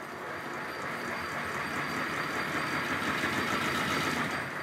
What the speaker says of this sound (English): I'm going to leave you with the engine running on the bench on steam without any sort of heat source in the firebox.